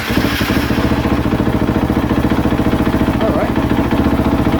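A KTM 450SXF dirt bike engine, cold start knob pulled, turns over and settles into a steady, fast-pulsing idle, loud and close, with a brief spoken remark over it.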